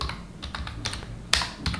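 Quick, crisp clicks of a computer keyboard as a filename is typed, a short irregular burst of close keystrokes with one louder tap near the end, no voice.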